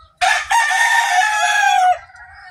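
A rooster on a farm lets out a single loud, close crow, rising sharply and holding its note for nearly two seconds before trailing off into quiet.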